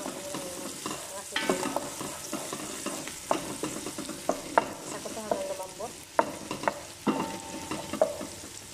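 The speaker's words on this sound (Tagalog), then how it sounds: "Ginita ko lang sa mainit na mantika itong aking mga sibuyas." Onions sautéing in hot oil for a beef bukhari, with a steady sizzle broken by repeated clinks and scrapes of a spoon stirring against the pan, close and moderately loud, with no talking.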